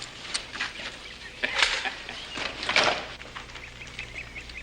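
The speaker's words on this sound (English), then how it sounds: "Got us a new hen, Paul." A hen clucks in a series of sharp, uneven calls close by, with bursts of clucking around a farmyard and no talk over them.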